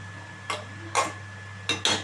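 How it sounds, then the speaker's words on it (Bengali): Handi chicken is stirred and cooked down in a pot, with four short metallic scraping clinks of a spoon against the pot at irregular intervals over a low steady hum, no voices. "হাঁড়ির মধ্যেই আমি ভালোভাবে কষিয়ে নিচ্ছি।"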